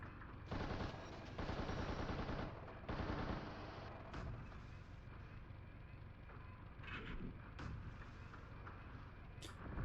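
Gunfire from the Steel Battalion mech video game, coming as sustained bursts of rapid machine-gun fire in the opening seconds, then fading into a lower rumbling mechanical din with a few sharp clanks.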